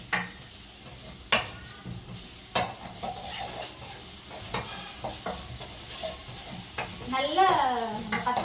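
Onion sautés with ginger garlic paste in a pan, a low sizzle punctuated by sharp spatula knocks and scraping stirs at irregular intervals, with brief vocal sounds near the end.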